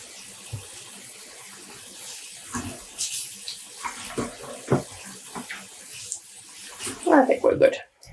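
Cold tap water runs into a pan being filled halfway, intermittent splashing and gurgling that grows louder toward the end, with a person talking nearby.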